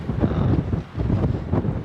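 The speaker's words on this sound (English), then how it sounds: "it's definitely too windy" Gusty wind buffets a hillside campsite on the Pacific Crest Trail, roaring in uneven surges with one brief lull, loud and close to the microphone.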